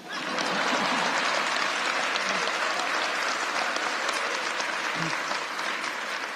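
An audience claps steadily at a political event for New York's Red Flag Law, a dense, sustained wave of applause holding at full strength for several seconds with faint crowd murmur beneath.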